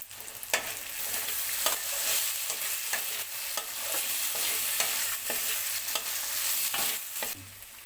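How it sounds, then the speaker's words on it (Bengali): Peanuts and cashews stirred in a hot pan while preparing chire pulao, with a steady sizzle and repeated sharp scraping strokes of a spoon against the pan, close and fairly loud, with no voices. "আমি এতে বাদাম আর কাজু বাদাম দিয়ে দেবো"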